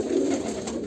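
A Kalanka pigeon of Andhra pure bloodline gives a close, loud, low rolling coo, a continuous throaty warble that swells and fades over a second, with no voices.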